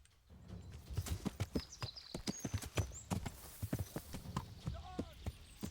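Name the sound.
horse hooves clip-clopping in the video game Kingdom Come Deliverance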